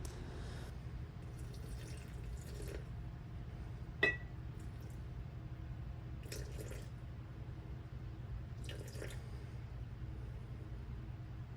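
Warm distilled water is poured in short, faint splashing bursts into a container of all-purpose and rye flour for a sourdough starter, with one sharp glassy clink partway through in an otherwise quiet kitchen.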